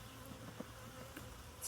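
Honeybees buzzing at an opened new hive during an inspection, a faint, steady insect drone with a few brief louder passes close by and no talk.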